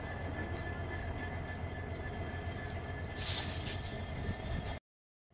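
Ambience inside Guwahati railway station, a steady broadband rumble of trains and station machinery with a brighter hiss burst partway through, continuous and fairly loud before cutting to silence.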